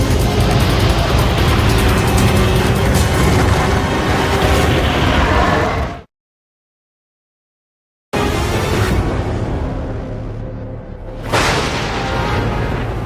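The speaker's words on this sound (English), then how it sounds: "Everyone walking around suddenly hears the string of firestorm explosions that appear to just come from nowhere and everywhere" A rapid string of loud, rumbling explosions from a firestorm booms continuously, cuts out into brief silence, then resumes with another heavy blast wave.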